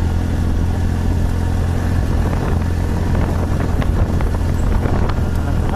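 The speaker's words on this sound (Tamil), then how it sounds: "காற்று நல்லா அடிக்குது, குழு குழுனு அடிக்குது." Steady, loud wind buffeting a microphone during a motorcycle ride on a straight road near a dam outside Madurai, a continuous low roar with engine rumble underneath and no pauses.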